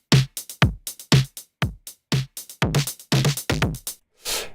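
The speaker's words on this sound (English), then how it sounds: "Let's go for a tube." A drum beat driven hard through Coldfire tube distortion with the drive turned up, with repeated punchy, gritty hits in a steady pattern that ends on a noisy crash-like wash, loud and alone.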